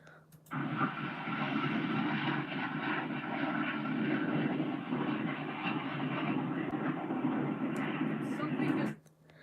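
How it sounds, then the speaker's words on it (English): A Dassault Falcon jet roars into reverse thrust on landing, a sustained broad rumbling blast that holds steady for about eight seconds before dropping away, heard from a distance. "as it goes onto the reverse thrust, you will hear it like sounds like the engine is just like exploding as it stops"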